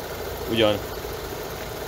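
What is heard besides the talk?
Opel car engine idling after repair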